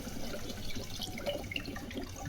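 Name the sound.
water poured into cooking kofta pan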